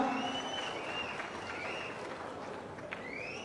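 Sustained applause from an audience at a public news event, a steady dense patter of clapping held at even volume throughout, with a few faint higher whistles or tones over it.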